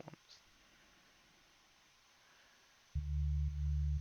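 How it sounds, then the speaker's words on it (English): After near silence and a couple of faint clicks, a synthesizer sub bass comes in abruptly, a deep steady tone played up an octave, loud and sustained with a slight pulse near the end. "we've got a sub bass running, which is very straightforward"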